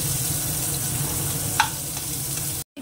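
Finely minced single onion frying in hot oil in a pan, a steady loud sizzle with one brief clink of a utensil before the sound cuts out abruptly near the end.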